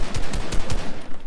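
Loud, rapid gunfire from a video game crackles in dense back-to-back bursts for about a second, up close and with no voices over it.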